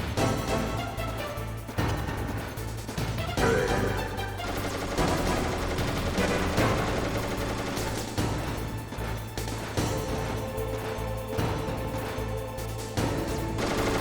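Rapid gunfire in the PlayStation game Metal Gear Solid, bursts of automatic shots striking a wall, repeated sharp cracks in clusters over a steady background hum, loud and close.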